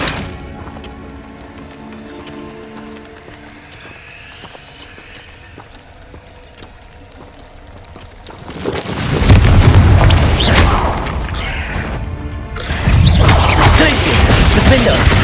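Booming spell explosions from the Confringo curse in the Hogwarts Legacy video game, a loud broadband blast erupting after a quieter stretch and sustained for several seconds, then a second burst close behind.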